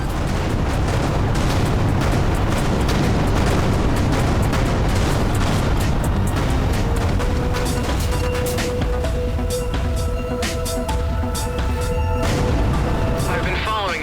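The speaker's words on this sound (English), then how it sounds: "Explosion imminent." Heavy explosions in the space shooter Everspace 2 boom continuously and loudly, filling the sound with dense rumbling blasts and crackling debris, while tonal game effects ring out later.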